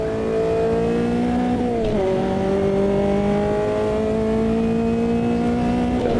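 Race car engine in Automobilista 2 holds a steady high drone, with a brief dip in pitch as the gears change mid-lap before the revs climb again, loud and continuous throughout.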